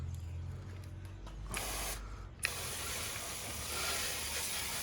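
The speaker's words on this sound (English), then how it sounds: "Now we're gonna clean this area with spray water to make sure there's no antifreeze." A spray bottle gives a steady broadband hiss of water spraying on a 2012 Range Rover Sport engine bay to clear antifreeze, with a short pause and a faint click before a stronger, continuous spray resumes.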